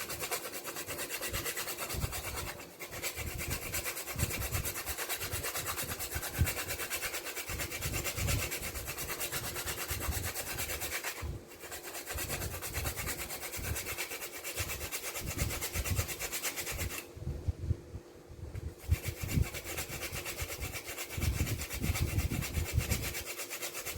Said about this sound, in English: going to grate my nutmeg in there.